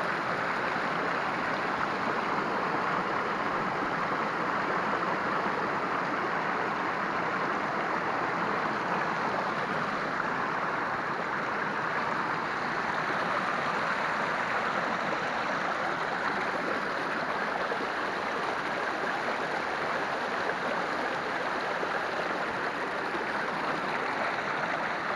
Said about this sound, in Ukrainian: Всі зупиняються фактично на цьому водоспаді, маленькому, а він має великий каскад